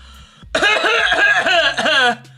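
A voice imitates a cough: a series of rough, throaty bursts lasting about a second and a half, close and fairly loud.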